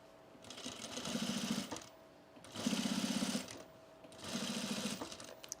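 A sewing machine stitches stiff fabric for cargo pants in three bursts of rapid whirring, each a second or so long, separated by brief pauses, close and clear with no talk.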